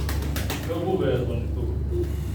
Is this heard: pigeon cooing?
yes